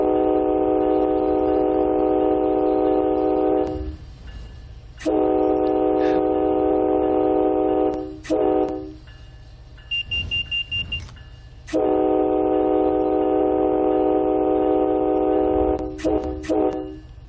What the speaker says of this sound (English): train horn sounds have been getting better